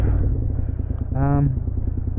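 A V-twin motorcycle engine fitted with slip-on exhaust cans rumbles loudly and steadily while riding in traffic, with a brief rising rev or horn-like tone in the middle, under wind noise.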